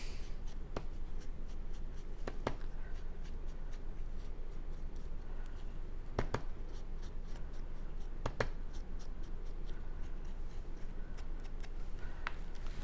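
A foam ink pad rubs along the edges of cardstock for a witch boot paper craft, giving a quiet continuous scratchy brushing with occasional soft taps, close and alone.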